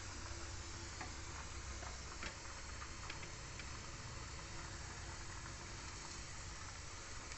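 Hot oil sizzling in a pan before peanuts go in for a bitter gourd curry, a soft, steady sizzle with faint ticks and crackles, close but quiet, with no voices.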